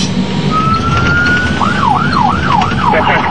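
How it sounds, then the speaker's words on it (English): Security convoy vehicles in Iraq sound their sirens: a steady tone rises into a fast wailing yelp, loud and close over road noise. "The sirens warn Iraqi drivers to steer clear."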